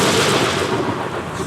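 Thunderstorm in a stage production of Shakespeare's The Winter's Tale, a loud, continuous rumble of thunder with heavy wash, filling the moment alone without voices.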